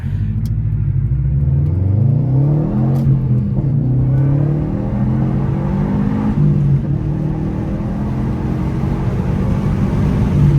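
Subaru WRX STI car accelerating hard from 0 to 60, heard from inside as a loud engine roar whose pitch climbs through the gears with brief dips at each shift, no talking.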